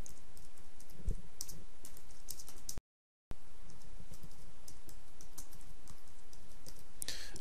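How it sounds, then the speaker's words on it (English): Steady clatter of computer keyboard typing, quick irregular key presses close up, with a brief silent gap midway. "I can start typing"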